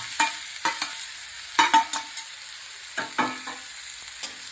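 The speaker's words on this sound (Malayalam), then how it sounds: "നന്നായിട്ട് മിക്സ് ചെയ്ത് കൊടുക്കാം" Elephant foot yam stems being stirred in a pan, a spoon scraping in irregular bursts with a light sizzle underneath, close and moderately loud with no talking.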